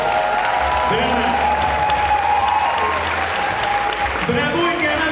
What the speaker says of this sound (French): il mérite vraiment une grande main d'applaudissement pour le courage, le travail